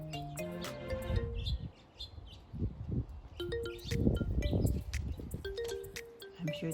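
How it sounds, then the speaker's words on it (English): Sparrows and other birds chirp and call repeatedly in a garden, bright, quick, overlapping tweets close by over low rumbling background noise. "what's the noise about? Birds."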